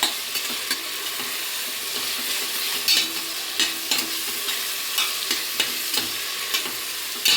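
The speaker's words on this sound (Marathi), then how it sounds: "हे जे वाटण ते कच्चं असतं ना, तर ते परतवता टोमॅटोसुद्धा चांगले स्मॅश होतात त्याच्यामध्ये" Masala paste and tomatoes sizzle steadily in a pan while a spoon stirs and scrapes through them in regular strokes, close up and with no talking.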